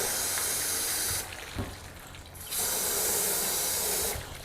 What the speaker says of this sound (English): Water's running off this panel quicker